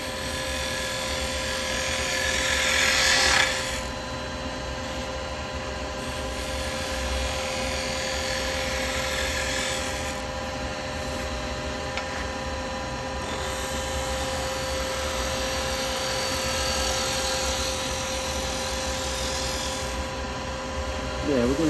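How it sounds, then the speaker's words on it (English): A woodturning lathe runs with a steady, high whirring hum while a carbide tool cuts into a spinning blank, with brief louder scraping bursts of the cut. "I'm going to go back to my carbide and I'm going to come in here."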